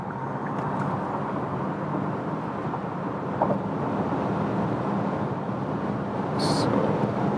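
Cabin noise from a Kia EV6 electric car accelerating at speed on the Autobahn, a steady loud broadband roar of road and wind that swells slightly toward the end.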